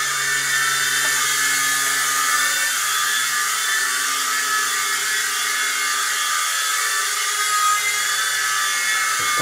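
A small Black Spider-XT two-channel RC toy helicopter flies indoors with a constant, loud, high-pitched rotor whine and motor buzz that holds steady throughout with no speech.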